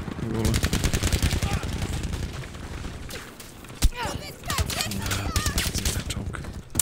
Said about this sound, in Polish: Te MG się przegrzewają